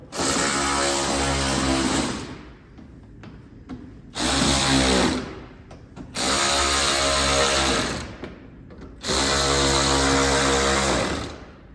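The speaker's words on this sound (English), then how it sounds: "now that it's in position, right, we're gonna wanna tighten them all down" Splash guard bolts being tightened on a 2022 or later third-generation Toyota Tundra, four loud whirring bursts from a power driver, each a second or two long, separated by short pauses.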